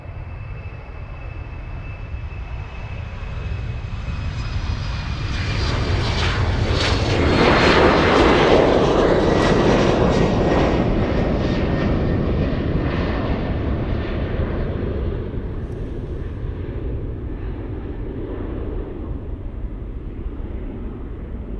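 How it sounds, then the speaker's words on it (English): An Airbus A350 lands at Munich airport. The jet's broad engine roar swells to a loud peak as it passes close, then slowly fades with a rushing, whining tail. "All right, A350, landing up."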